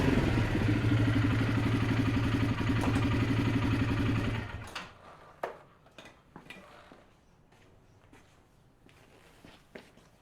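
A 2021 Kymco Mongoose 270 CVT quad's engine drones loudly up close on a test ride for about four seconds, then cuts away to quiet scattered knocks and footsteps.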